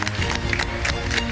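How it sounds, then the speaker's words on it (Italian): Applause breaks out as the set photographer is welcomed onto a television-style show, with dense clapping and crowd noise running steadily throughout the short burst. "Applauso!"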